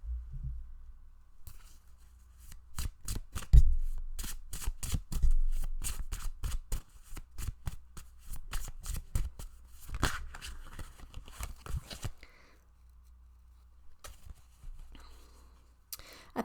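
Tarot cards are shuffled close up in rapid, crisp riffling flicks that recur in bursts over a quiet background, with soft taps and handling noises between them.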